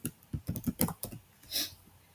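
Fingers tap a computer keyboard in a quick burst of about eight close clicks, then a short pause and a softer final press.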